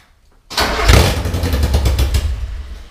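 Mazda B2000 pickup with a new header cranks and fires up after a short quiet lead-in, then runs loud and raspy at a rough, close idle.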